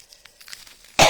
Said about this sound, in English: I literally just coughed in the mic